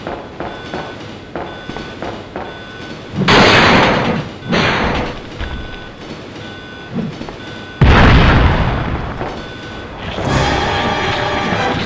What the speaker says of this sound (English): This train will detonate.